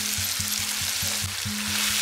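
Masala fries in oil over a medium flame, a close, soft, crackling sizzle with bubbling pulses repeating in a steady rhythm, with no talk.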